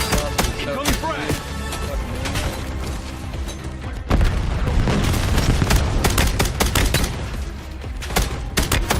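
A frag grenade and heavy gunfire ring out in Call of Duty Black Ops 7, with loud, dense rapid shots and a sharp explosive burst midway, all under excited talking voices.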